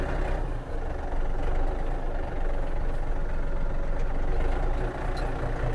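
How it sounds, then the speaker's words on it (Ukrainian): A Yanmar AF-28 mini tractor's diesel engine runs steadily and close by as the tractor pulls away in first gear from a cramped yard, a continuous low rumble with slight dips in level and no talking. "І можемо вибрати передачу, першу, наприклад, і трактор почне свій рух."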